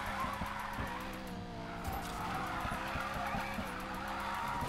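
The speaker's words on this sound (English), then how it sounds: "Just can't keep enough speed to keep the drift going for very long." A car drifts in the racing video game Need For Speed Payback, with a droning engine under repeated tire-skid squeals and bursts of rough scraping across the track, all at a fairly low level.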